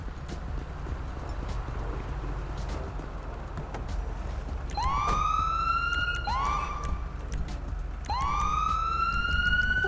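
Ambulance sirens wail in the video game GTA IV, with rising electronic whoops starting midway and repeating several times over a steady engine-like rumble of background noise.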